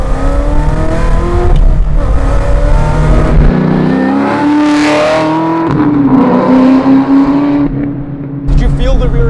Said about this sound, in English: It's the perfect perfect balance of the supercharger whine and the exhaust.